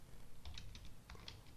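Several short bursts of typing on a computer keyboard while entering a search term, with quick clustered key clicks, fairly close and alone with no voices.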